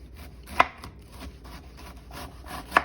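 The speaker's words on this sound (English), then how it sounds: "So I'm just gonna cut it with a knife." A knife slices coleslaw vegetables thinly on a cutting board, soft repeated cuts with two sharper knocks against the board, close and alone without talk.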